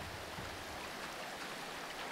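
Flowing water in modded Minecraft, a steady faint hiss of running stream like a trickle, constant and unbroken with no other sounds.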